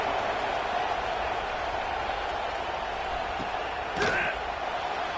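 A steady, distant roar of a stadium crowd in the NCAA 26 college football video game fills the air evenly, with a brief sharp thud and a faint whistle-like tone near the end.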